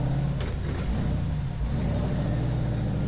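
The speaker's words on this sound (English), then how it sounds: "Start smoking these tires pretty soon. Getting them nice and hot" A rock crawler's engine rumbles loudly and revs on a rocky hill climb in Bagdad, Arizona, heard from inside the car as a steady, heavy drone.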